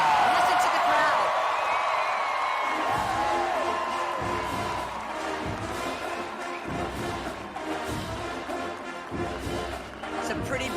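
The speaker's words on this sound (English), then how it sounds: "Listen to the crowd." A large crowd cheers along a parade route at the Rose Parade, with a marching band passing by. The broad crowd roar holds steady throughout, and a few high whistles or brass-like tones ring out early.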